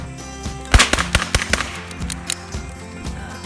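Gunshots fired from the hip at an off-road park in Georgia, a cluster of sharp reports around the first second and a half followed by softer echoing pops.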